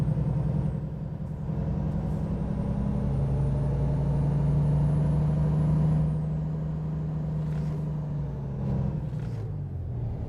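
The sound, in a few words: truck gear shift in American Truck Simulator video game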